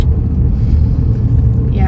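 Steady low rumble of a car engine and road noise from inside a moving vehicle, continuous and fairly loud, with no distinct events standing out.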